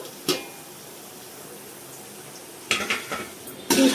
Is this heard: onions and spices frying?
yes